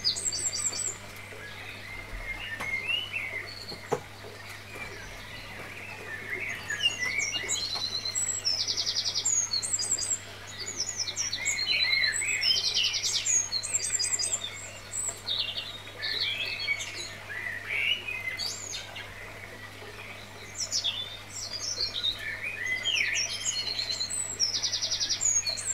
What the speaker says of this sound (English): What birds can you hear in the meantime?